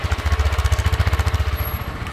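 A 2024 Honda CG 160 Titan motorcycle's engine runs close by with a loud, rapid, even thumping pulse from its single cylinder, with no talk over it.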